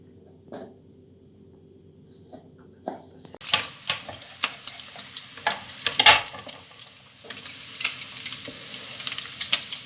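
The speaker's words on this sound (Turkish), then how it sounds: "Yağlarımızı eritiyoruz." After a quiet start, diced fat crackles and sizzles as it melts on a hot sac griddle, with scattered pops and a few clinks of stirring.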